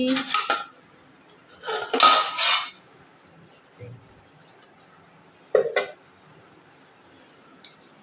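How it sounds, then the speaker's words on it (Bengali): Dishes, plates and pots being washed in a home kitchen, clattering in a few loud bursts with quieter gaps and scattered clinks, with no voices. "এই যে থালা বাসন সব পড়ে আছে থালা বাসন ধুয়ে নিচ্ছি"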